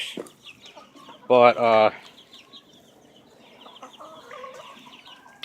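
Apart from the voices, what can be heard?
chickens clucking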